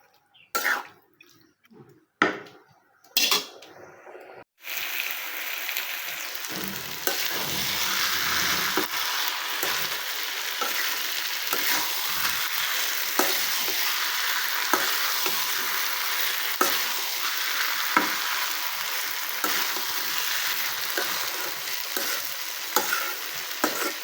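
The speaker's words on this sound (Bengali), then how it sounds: "তো এভাবে আরেকটু আমি কষিয়ে নেব।" A few sharp clinks of a spatula come first, then pointed gourd with chickpea dal sautés in a pan in a loud, continuous sizzle, broken by repeated scraping and stirring strokes, with no voices.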